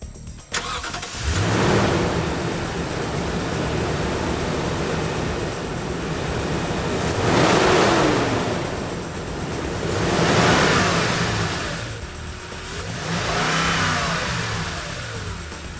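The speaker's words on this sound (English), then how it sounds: "Let's hear the engine start with the original air intake." A Toyota Tundra truck engine with its stock air intake cranks and starts, then revs up and down several times in rising and falling swells before settling back to a steady idle.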